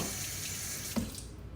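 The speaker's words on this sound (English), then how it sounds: "we're gonna top this off with water." Tap water runs steadily into a jar of semi-sweet pickles to top off the brine, a continuous hiss and splash from close by with a brief clink near the end before it trails off.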